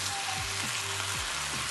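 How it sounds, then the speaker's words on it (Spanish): Tamale rajas filling cooking in a pan while being stirred, a steady close sizzle with soft scraping strokes recurring every half second or so, no voices. "Lo vamos a cocer aproximadamente 2 minutos en lo que revolvemos todos los ingredientes"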